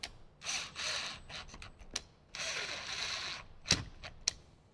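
A speaker is screwed into a Harley-Davidson Touring fairing speaker pod on a workbench, with two longer runs of a small powered driver buzzing, short bursts in between, and a couple of sharp clicks.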